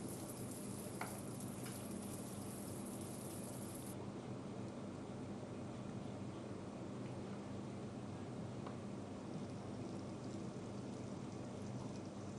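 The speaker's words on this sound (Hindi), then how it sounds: "कोटद्वार में देर शाम से झमाझम बारिश का दौर लगातार जारी है।" Heavy, steady rain pours down during an evening monsoon downpour in Kotdwar, Uttarakhand, a dense continuous hiss of falling water with no pauses and no voices.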